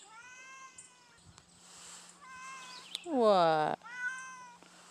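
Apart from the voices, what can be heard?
stray cat meowing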